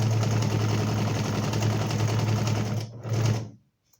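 A sewing machine hums and stitches rapidly and steadily up close while a straight-and-curved maze pattern is sewn, then slows briefly, restarts for a short burst and stops.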